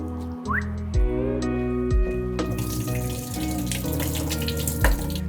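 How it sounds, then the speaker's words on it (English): Water drains from a pot of cooked apples into a kitchen sink, a steady running and splashing stream with a faint whistling tone, close and fairly loud, with no talking. "We're just gonna drain our apples here and get them in there as well."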